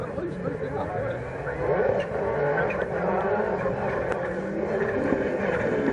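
Rally cars racing on a North West stage just after a chicane, engines droning and revving loudly with tire noise as several cars run close together, a commentator talking over them.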